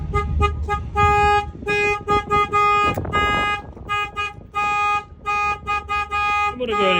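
A Freightliner truck alarm blares in rapid repeating tonal bursts with short gaps, set off by banging on the window, loud and close, while someone talks over it and thumps sound in the middle.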